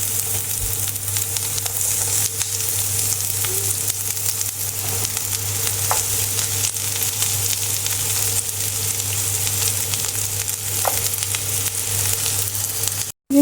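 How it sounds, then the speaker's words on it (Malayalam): Onion frying in oil with garlic and curry leaves for a mushroom and potato curry, giving a loud, continuous close sizzle with a couple of faint clinks, with no talking. "ഇനി നമുക്കിതിലേക്ക് സവാള ഇട്ട് കൊടുക്കാം കേട്ടോ"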